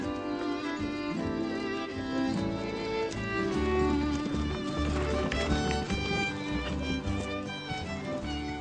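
Horses' hooves clip-clop at a run during a cattle drive, a steady galloping rhythm heard under music that plays throughout.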